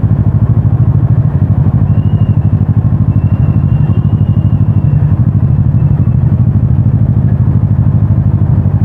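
A motorcycle rides along with a steady, loud, close engine drone and a fast rhythmic pulse that holds constant throughout, with no talk.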